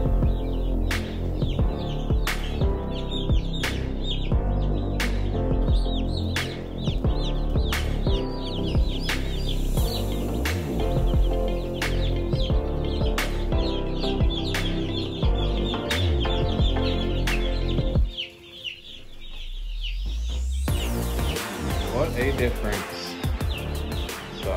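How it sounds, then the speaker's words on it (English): Cornish Cross chicks in a brooder chirp constantly in a busy chorus of high peeps, close and clear, before a sudden near-silent gap and a quieter resumption at the end. "we'll get these chicks in here and get them situated for the day."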